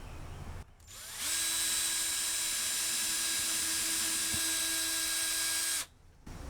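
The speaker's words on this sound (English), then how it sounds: "And drill those holes." A power drill whirs steadily for about five seconds drilling small holes in storm door trim, starting and stopping abruptly, loud and close with a high whine.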